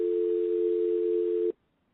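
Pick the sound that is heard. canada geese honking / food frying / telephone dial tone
telephone dial tone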